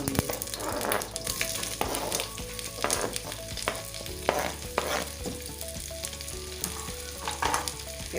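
Sliced onions fry in hot oil with a steady, dense sizzle, broken by occasional stirring scrapes and clatters; close and fairly loud, with no talking.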